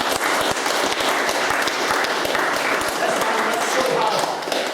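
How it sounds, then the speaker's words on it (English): An audience at a political meeting gives a burst of sustained, dense applause, many hands clapping close together, with voices faintly mixed in. "give this man here a quick applause"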